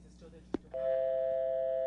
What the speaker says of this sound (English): It's a dial tone.